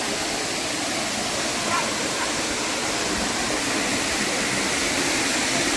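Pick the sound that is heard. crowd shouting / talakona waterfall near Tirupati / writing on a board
talakona waterfall near Tirupati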